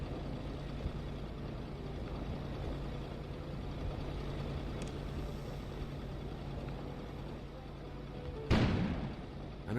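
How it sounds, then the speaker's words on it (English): An explosion goes off outside in the video game Kona: a low, steady ambient rumble runs for several seconds before a sudden muffled blast erupts near the end. "An explosion suddenly occurred outside."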